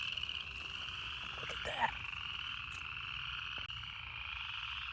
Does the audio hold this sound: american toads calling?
yes